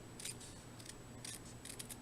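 Scissors cut paper for card making in a few short, crisp snips, quiet and close, spaced unevenly over a faint steady hum.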